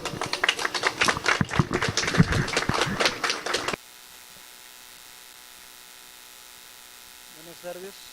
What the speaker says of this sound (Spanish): Un aplauso de favor.